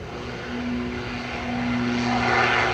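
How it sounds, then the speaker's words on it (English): Air Canada airliner arriving at Manchester Airport, a steady engine drone with a low tonal hum that swells slightly toward the end. "Air Canada arriving now."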